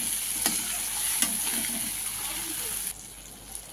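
Drumstick leaves fry in hot oil for moong dal, a steady close sizzle broken by a couple of utensil clinks, then dropping to a quieter hiss near the end.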